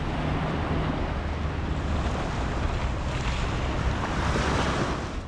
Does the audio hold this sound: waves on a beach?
yes